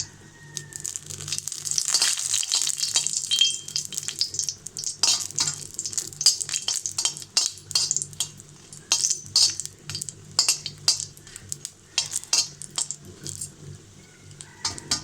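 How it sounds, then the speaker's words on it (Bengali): Chili peppers fry in hot oil for a hilsa fish bhorta, giving a loud, close sizzle broken by repeated sharp scraping strokes of a stirring utensil across the pan for the whole stretch. "এখন গরম তেলে ভেজে নেব। তার জন্য আমি এখানে মরিচটাকে তেলে ভেজে নিচ্ছি।"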